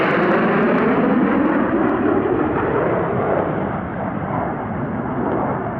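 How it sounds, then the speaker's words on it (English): Two F-35s of No. 3 Squadron and two Super Hornets of No. 1 Squadron fly at the Australian International Airshow 2023, their jet engines a loud, continuous, rumbling roar that holds steady throughout. "2 F-35s from number 3 Squadron and 2 Super Hornets from number 1 Squadron"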